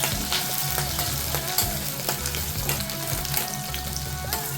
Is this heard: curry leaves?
yes